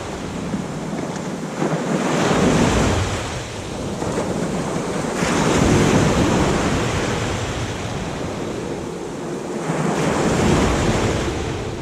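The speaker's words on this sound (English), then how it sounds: "So I've got some lovely waves coming in now" Sea waves rolling onto a shore, a loud steady wash of surf with slow swells rising and falling every few seconds, mixed with wind buffeting the microphone.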